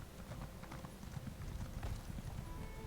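Horses gallop in The Elder Scrolls Online, a steady clip-clop of hooves running close and continuous, with faint game ambience behind.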